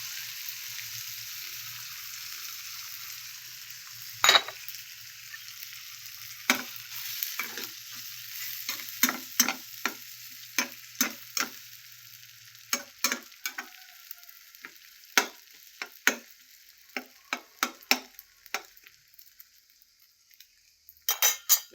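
Egg frying in a pan at home, a steady hiss of sizzling oil with frequent sharp clinks and scrapes of a utensil stirring against the pan, irregular and close.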